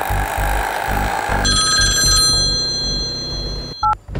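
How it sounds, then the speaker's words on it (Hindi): A telephone rings with a bright electronic trill over a pulsing low music beat, cutting off abruptly near the end. "ये फजल को फोन लगा यार"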